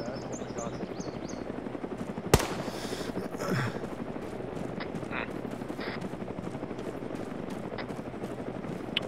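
A lone distant gunshot cracks once in ARMA 3 over a steady helicopter drone, with faint scattered clicks and quieter sounds around it and no clear talk.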